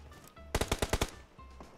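Six sharp, evenly spaced shots from a shooter video game crack out in a quick burst, loud against a quiet game background.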